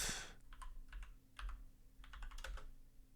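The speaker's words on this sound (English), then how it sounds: "we can type it in our search bar" Typing on a computer keyboard into a search bar, a few quick clusters of close, crisp key clicks over a low background hum, with no talking.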